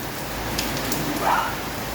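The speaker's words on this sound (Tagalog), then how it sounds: "ang ulan dito sa Baguio" Steady heavy rain falling on a surface in Baguio City, Philippines, a dense even hiss of drops that holds at the same level throughout, with no voices.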